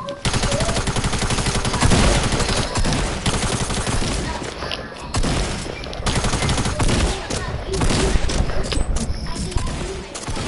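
Rapid automatic gunfire in a battle royale video game, dense continuous bursts of sharp shots layered close and loud, with brief gaps, while a player talks over the shooting.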